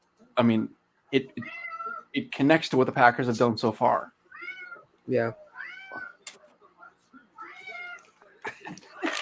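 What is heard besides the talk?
pet cat meowing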